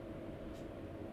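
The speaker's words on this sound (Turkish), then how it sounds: "bak tren de oradan geçiyor" A train rumbles past in Euro Truck Simulator 2 on a Swiss mountain road between Zurich and Bern, a steady low drone heard alone with no talk.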